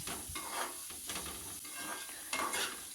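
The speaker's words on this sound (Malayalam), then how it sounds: "അത് നന്നായിട്ട് ഇളക്കി രണ്ടും കൂടി നന്നായിട്ടൊന്ന് വഴറ്റിയെടുക്കണം കേട്ടോ" Prawn roast being stirred and sautéed in a pan, with soft sizzling and repeated scraping strokes of a spoon against the pan at close range.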